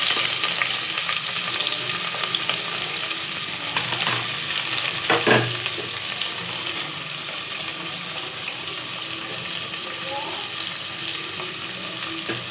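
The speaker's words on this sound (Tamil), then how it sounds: "அதோட ஆனியன் போட்டுக்கலாம்." Onions fry in ghee with cardamom and star anise for a prawn biryani, a loud, steady close-up sizzle with a brief clatter of stirring partway through.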